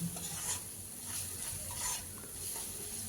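Spices with chilli powder and green chilli paste being stir-fried in a pan, a soft steady sizzle with gentle rhythmic stirring sweeps, quiet and close, no talking.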